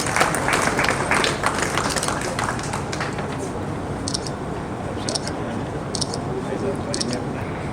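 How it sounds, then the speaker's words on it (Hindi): Applause from an audience at an environmental guardian award ceremony at a university in Meerut, a dense, steady wash of clapping throughout, with crowd noise and a few sharper bursts near the end. "जोरदार तालियों से उनका उत्साहवर्धन कीजिए।"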